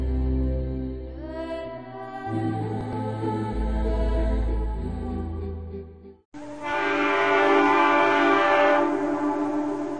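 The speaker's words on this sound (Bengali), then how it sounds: "ভাই আপনার ট্রেন তো আসছে, যাইবেন না?" A train approaching sounds a long, loud horn with a deep shifting tone, then a louder, brighter horn blast and rumbling roar take over for the final seconds, close by.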